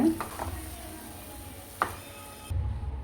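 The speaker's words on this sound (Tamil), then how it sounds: "ஒரு ஸ்பூன் நெய் சேர்த்துக்கலாங்க, கொஞ்சம் கொத்தமல்லி தழை சேர்த்துக்கலாம். இது கொஞ்சம் கலந்துக்கலாம்." Tomato upma being stirred with a spoonful of ghee and coriander leaves in a pan: soft, faint scraping and mixing, with a sharper clink of the spoon against the pan near the end.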